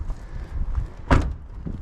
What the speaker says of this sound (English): Door shuts surprisingly well, if I'm honest.